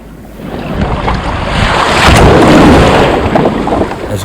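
Ocean waves and swells wash steadily around a kayak paddling in off the Central Coast, with wind buffeting the microphone; the surf swells louder midway and stays close and continuous.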